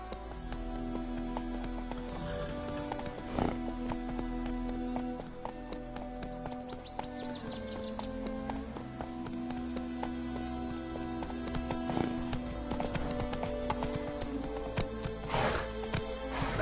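Hooves of the horse Roach clip-clop in a quick, steady gallop rhythm in a video game, moderately close, with a short whinny mixed in and game ambience underneath.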